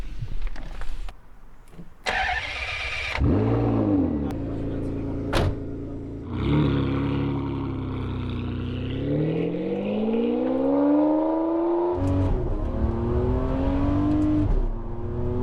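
Ferrari 599 GTB Fiorano V12 driving and accelerating hard, engine note climbing and falling through gear changes, loud and close from inside the car, with occasional talk mixed in.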